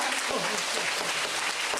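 An audience at a talk claps for the director-general in a dense, even burst of applause that holds steady throughout.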